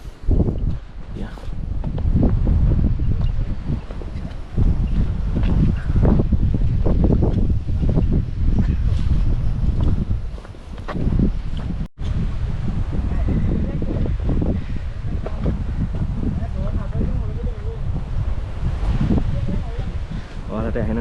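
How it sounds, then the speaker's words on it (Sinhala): Strong wind sweeps across the Knuckles mountain peaks, with steady loud gusting and buffeting on the microphone, rustling trees, and voices faintly under it. "මාර හුළඟක් තියෙන්නේ මේ හරිය."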